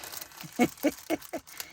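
Plastic packaging crumpled by hand at a craft table, giving four or five quick, close crinkling bursts in a steady rhythm over a soft background hiss.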